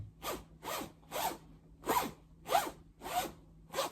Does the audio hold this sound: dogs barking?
no